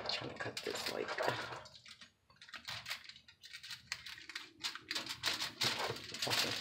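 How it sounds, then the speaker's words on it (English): A breakfast pizza topped with bacon, sausage, ham, cheese and egg is cut with a knife, giving irregular crunchy clicks and scrapes close by while someone talks. "Come on, girl, cut this pizza."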